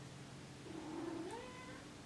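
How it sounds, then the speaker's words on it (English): A house cat gives a single drawn-out meow that rises and then falls, faint and a little distant over a steady background hiss. "That's my cat."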